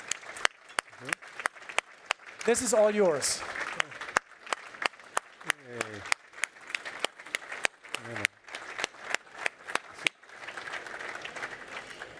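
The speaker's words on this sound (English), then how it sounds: "Big hand of applause." Scattered, uneven hand claps from a small group at the Covestro Science Medal ceremony at the K 2022 trade fair. Brief speech breaks in between, then the clapping thickens into fuller applause near the end.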